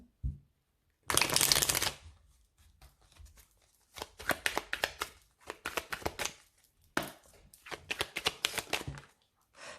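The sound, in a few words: shuffling Indigo oracle cards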